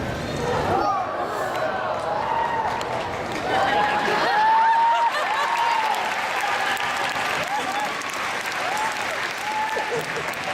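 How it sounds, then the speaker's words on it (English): An audience applauds and cheers steadily, with a voice speaking over the clapping throughout. "give me a huge round of applause once that second torch is ignited"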